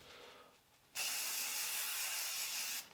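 A single sustained hiss of cooking oil sprayed onto cling film lasts about two seconds, close and fairly loud, starting and stopping abruptly.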